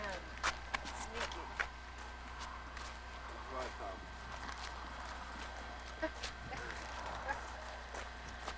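Sparse hoof clops ring out in an uneven walking rhythm over a steady low rumble, with voices talking in the background.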